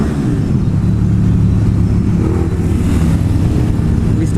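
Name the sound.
2017 KTM Super Duke motorcycle engine revving in a tunnel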